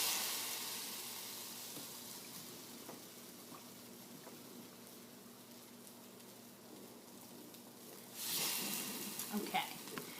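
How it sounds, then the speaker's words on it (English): French toast frying on a griddle, a soft steady sizzle throughout with a louder crackling burst near the end as more bread goes down. "the nice thing about the griddle is you can cook a bunch of the pieces of French toast at once"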